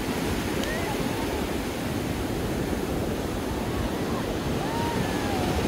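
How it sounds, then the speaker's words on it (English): Strong wind and crashing surf at Southport Beach, a steady, loud roar of waves with heavy wind buffeting the microphone throughout. "It's pretty windy today."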